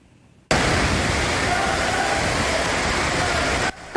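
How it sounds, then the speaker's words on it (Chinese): Muddy floodwater from heavy rain gushes down a driveway into the underground parking garage of a luxury residential tower, like a waterfall. A loud, steady roar starts abruptly and continues for about three seconds before cutting off. "有大量的泥水顺着车道就好像瀑布一样淹进地下停车场"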